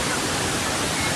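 A waterfall on Yuntai Mountain roaring close by as a dense, unbroken hiss of falling water, steady and full with no pauses or voices.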